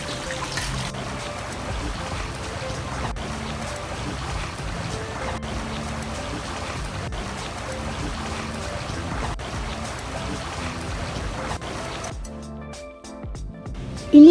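Continuous rushing river water with a low rumbling undertone, steady throughout, then a brief drop and a sudden louder noise at the end.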